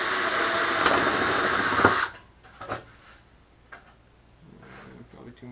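A power drill bores holes around the perimeter of a homemade muskrat funnel trap, a loud whirring burst for about two seconds that cuts off into quiet handling noises.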